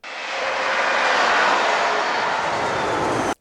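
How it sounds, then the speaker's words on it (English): Fast spaceship pass-by effect in a Mandalorian-style sound design, a loud rushing jet-like roar that swells quickly, holds steady, then cuts off abruptly, with no talk. "I got a really fast pass by for the spaceship"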